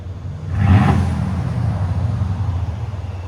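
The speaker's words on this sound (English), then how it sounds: "Let it idle. Just 1 rev, please." A 2013 Mercedes S550 with a 5.5L V8 and muffler delete gives one short rev that swells and fades over idle, followed by a deep, steady rumble, heard close and without talk.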